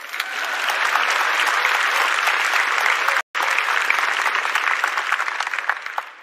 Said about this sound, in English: You can clap it.